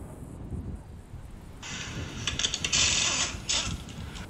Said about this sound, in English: let me get the impact gun again